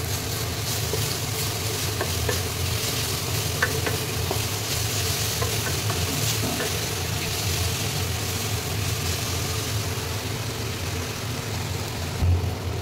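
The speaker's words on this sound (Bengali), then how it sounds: "এদিকে শাক ভাজাটা হচ্ছে, শাক ভাজাটা একটুখানি নাড়িয়ে নেব।" Leafy greens stir-fry in a pan with a steady, dense sizzle and scraping stirs running throughout, with no voices.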